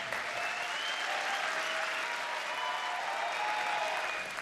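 Studio audience at a Turkish music television show applauds the orchestra in a dense, sustained wash of clapping that stays loud and even throughout.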